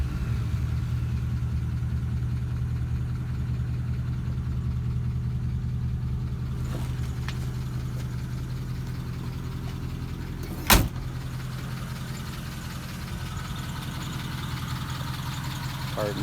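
A custom 1952 Pontiac Chieftain coupe engine idles steadily with a low, continuous rumble, and one sharp click or clunk sounds partway through over the running motor.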